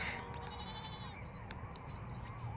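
A young goat kid gives one short, wavering bleat, followed by a couple of fainter cries, over a steady outdoor background hum.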